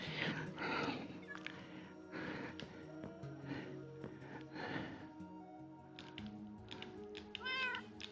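Minecraft cats meow repeatedly in-game, several short mews scattered across the stretch at moderate volume, mixed with faint clicking and other game sounds.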